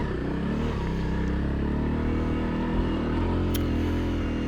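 A Honda CRF250L dual-sport motorcycle pulls steadily on single-track trail, its single-cylinder engine droning loud and close with a constant throttle tone and light clatter throughout.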